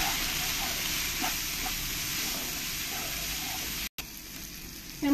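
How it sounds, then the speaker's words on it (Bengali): Ground spices and chilli powder frying with onion in a pan for matar paneer masala, giving a steady close sizzle with faint stirring scrapes and a brief dropout near the end. "লঙ্কার গুঁড়ো একসঙ্গে দিয়ে ভালো করে আমি পেঁয়াজের সঙ্গে মিশিয়ে নেব"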